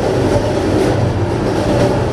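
A slow passenger train runs from Malacky toward Bratislava-Lamač station, giving a loud, continuous low rumble with faint rhythmic rail clatter throughout and no voices.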